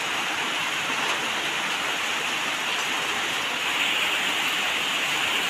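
Steady, dense rain pours without a break through a whole day, a continuous broadband hiss like a heavy downpour close by, holding at an even level with no speech over it.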